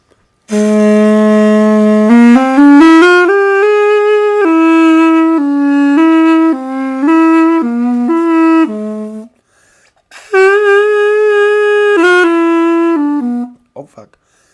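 Homemade plastic saxophone playing a reedy melodic line of sustained notes around A in another octave, loud and close, with a short break before a second phrase, no talking over it.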